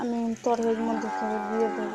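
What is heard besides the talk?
cow mooing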